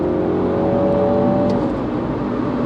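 A 2016 F56 Mini JCW accelerates hard from third gear, its engine note climbing steadily under load, loud and sustained from inside the car with no speech.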